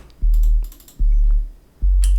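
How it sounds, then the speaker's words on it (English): Deep hip hop sub bass notes in a music track, three sustained loud booming hits in a steady pattern, each holding for most of a beat before cutting off. "it's just hip hop sub bass"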